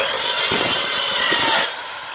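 An Evolution EVOSAW180 7-1/4-inch circular saw with a multi-purpose blade cuts through quarter-inch steel plate, giving a loud, close, high whining grind for about a second and a half before the blade spins down. No voices.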